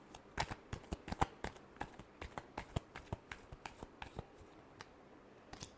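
Tarot cards being shuffled by hand, a quick run of crisp, dry riffling snaps and slaps in an irregular rhythm, close and fairly quiet with no voices.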